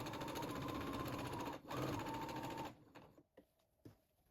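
Sewing machine stitching around the neckline of a tie-front fabric bib, a fast steady mechanical whir that pauses briefly, resumes, then stops with a few clicks and handling noises.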